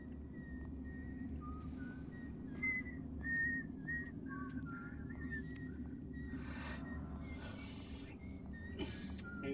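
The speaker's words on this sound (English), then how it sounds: "He's whistling What Will We Do with a Drunken Sailor?" A character in the video game Dishonored whistles the tune of Drunken Sailor, a faint melodic whistle over a low ambient hum, with a few soft breathy noises between phrases.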